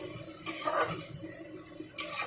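A lid is set onto a pan of cooking mulo greens, two sharp metallic clinks about a second and a half apart over faint kitchen background.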